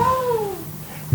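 A house cat gives one clear, falling meow nearby, short and fairly loud, with a faint thump just after.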